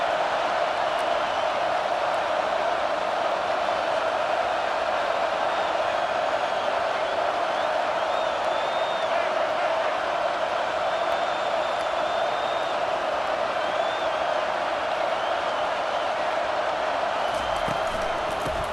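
Stadium crowd noise in EA Sports College Football 25, a steady, dense roar of many voices during a football play, continuous and fairly loud throughout.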